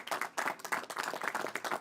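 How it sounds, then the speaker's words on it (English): Audience applause at a press conference on the James Zadroga 9/11 Health and Compensation Reauthorization Act, steady clapping from many hands through the whole stretch, fairly close and without speech. "You can applaud for that."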